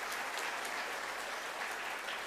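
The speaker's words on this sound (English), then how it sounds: "A big applause" Convocation audience at Anna University applauding, a steady wash of hand claps filling the hall at moderate level without talk.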